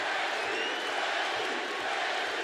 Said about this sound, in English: Glendale crowd getting behind one of their own